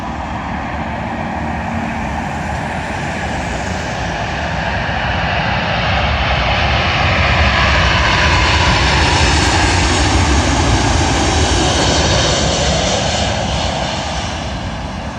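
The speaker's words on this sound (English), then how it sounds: "Arriving in now is an American Airlines Boeing 777." American Airlines Boeing 777 landing at London Heathrow runway 27L, a steady loud jet engine roar that swells toward the middle and holds, heard from nearby without talk.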